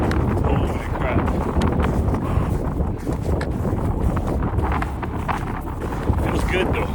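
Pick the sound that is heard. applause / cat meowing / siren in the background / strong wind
strong wind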